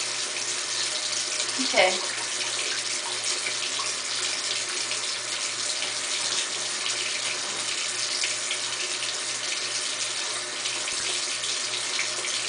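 Water runs steadily from a tap into a sink throughout during handwashing, a constant broadband hiss with a brief voice heard near the start.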